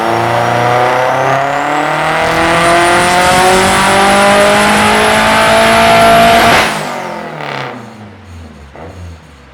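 Turbocharged car engine run at wide-open throttle on a dyno, a loud sustained roar climbing steadily in pitch to about 7000 rpm, then cutting off abruptly and winding down with fading whoosh.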